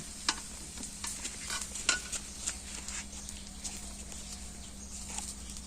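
Eggs fry in a pan in a home kitchen, a faint sizzle under a low electrical hum, with scattered light clinks and scrapes of a utensil.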